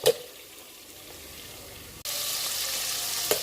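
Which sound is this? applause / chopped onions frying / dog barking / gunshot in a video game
chopped onions frying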